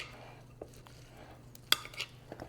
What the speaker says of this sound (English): So we're just going to stir this all up.